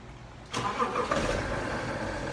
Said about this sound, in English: Just a cold start.